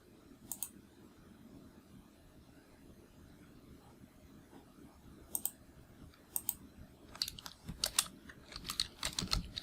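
Sharp clicks from a computer mouse while building a web page, a few isolated taps early on and then a quicker cluster near the end, close and crisp over a faint background hiss.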